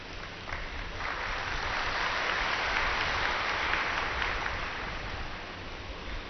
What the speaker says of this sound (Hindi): ताली आपने हमारी तरफ से बजा दी